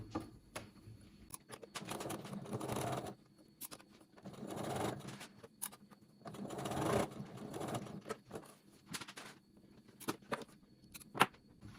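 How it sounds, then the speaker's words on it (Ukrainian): A sewing machine stitches darts on trousers in short runs of steady mechanical whirring, moderately close, separated by quiet pauses and small clicks. "І шию."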